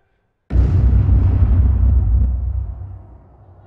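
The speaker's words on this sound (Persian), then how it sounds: "اینجا انفجار شد" In a comedy film, a single loud explosion bursts in after a moment of silence, a deep booming roar that rumbles on and slowly fades over about three seconds.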